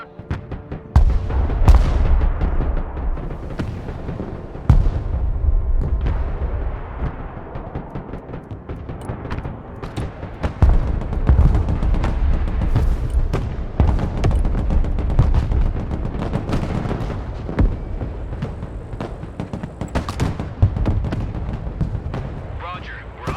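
Mortar fire in the Broken Arrow war game hits as repeated heavy booms and rumbling blasts mixed with gunfire, loud and close throughout a chaotic battle, while voices talk over radio chatter.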